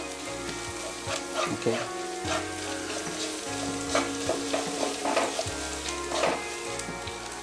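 Coriander leaves frying and being stirred in hot oil for an ivy gourd (dondakaya) curry, a steady close sizzle with scraping stir strokes throughout and a brief spoken word.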